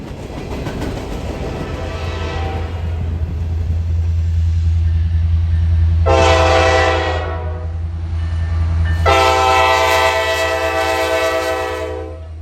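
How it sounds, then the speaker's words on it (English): A heavy freight unit train on an American mainline passes close with a deep, loud rumble and clatter, while two long horn blasts sound partway through, the second held longer. "These trains are known as unit trains"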